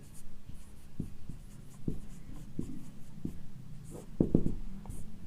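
Chalk or marker writing on a board during a polity lecture, a series of short scratchy strokes and taps at moderate loudness, close by, with no speech over it.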